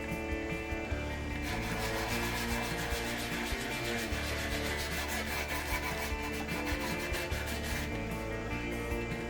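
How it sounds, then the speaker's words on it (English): Sandpaper worked by hand along the edges of a pallet-wood stool seat, giving a steady, close, continuous scratchy rubbing with quick back-and-forth strokes and no talking. "And with some sandpaper, I soften the edges of the seat."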